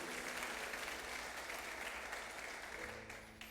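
A church congregation claps together during a celebration service, a thick sustained round of applause that stays full and then tapers slightly toward the end, with faint music tones underneath.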